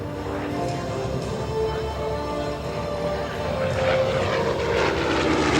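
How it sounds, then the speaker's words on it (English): FG-1D Corsair WWII fighter with an R-2800 radial engine and 14-foot propeller roars past at an air show, a loud continuous propeller drone with rich harmonics swelling as it nears. "Chris Avery leading the way in the FG-1D Corsair."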